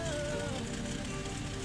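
Rain falling steadily during a stop on a trip to the Bantac River in Magpet, North Cotabato; a constant dense patter fills the background, fairly soft and unbroken, with no talking.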